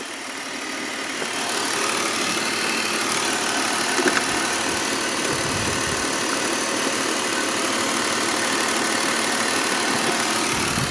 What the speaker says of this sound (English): I'm gonna turn the car off now.